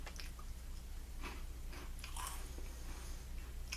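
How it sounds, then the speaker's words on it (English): Someone crunches and chews Cheetos Sweetos cinnamon puffs close up, with several crisp bites and mouth noises over about four seconds and no talking. "It's got a nice crunch to it."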